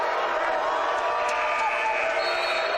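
Sustained jeering from the crowd at a Wilson Cup playoff basketball game between Brock and Laurier, a dense, even wash of booing aimed at the refs, with faint sneaker squeaks poking through.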